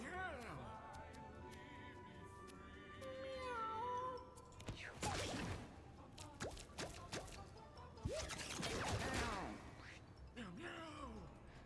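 A cat meows and caterwauls in a video game, with drawn-out wavering cries coming in several bursts amid game sounds and loud thumps.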